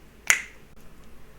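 A single crisp finger snap, close and clear, followed by quiet room tone with no talking.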